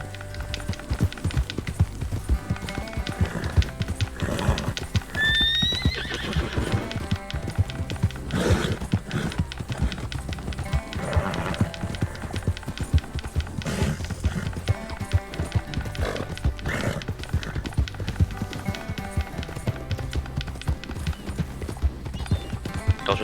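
Steady clip-clop of horse hooves trotting along at an even rhythm in Red Dead Redemption roleplay, layered with a dense background of game music and ambient noise.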